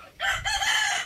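A white-legged Talisay gamecock in a backyard breeding farm gives a short, loud, close crow lasting about a second, with a rising onset and sustained harsh call.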